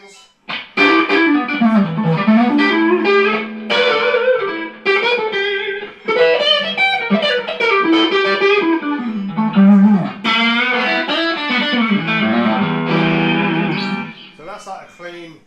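Electric guitar played through a Mesa Boogie amp across different settings, continuous melodic phrases with effects-laden, slightly distorted sustaining tone, loud and close, with brief pauses between runs.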